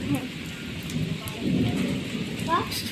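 Steady unseasonal night rain in the Konkan, heard from an open courtyard during a power cut, falls amid a continuous hiss, with low rumbles of thunder rolling underneath and a faint voice briefly audible near the end.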